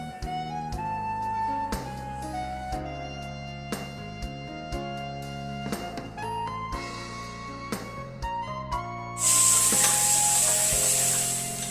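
Small shallots sautéing in a pan for a slow-cooked mutton leg soup, with steady close sizzling and repeated scraping stir strokes under background music, the frying growing louder and hissier near the end.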